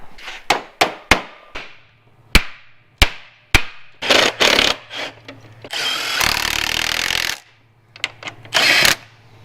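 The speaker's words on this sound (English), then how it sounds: "Little hammer action and it'll fit right in there." Sharp metallic hammer taps ring out one by one at an uneven pace as a part is tapped into place on a trolling motor, mixed with a longer burst of tool noise and scraping, close up.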